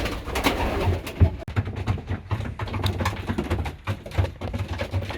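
Pigeons coo loudly and close in a loft with hatched young, repeated throaty calls overlapping in an uneven rhythm, joined by flutters and light knocks, with no talk.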